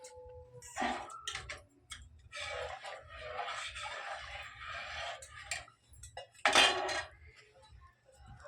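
Payesh, a rice pudding, being stirred in a cooking pot: a spoon scrapes and clinks in irregular strokes, close and fairly quiet, with one louder clatter near the end and no talking.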